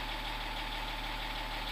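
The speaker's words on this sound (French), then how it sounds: "serrer le frein à main, démarrer le moteur." A BMW 530d E39 diesel engine idles steadily after starting, with a constant low rumble and faint knocking, close and alone with no voices.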